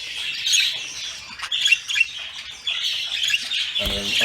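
A flock of birds squawking and chattering continuously at close range, with a brief dull thump near the end.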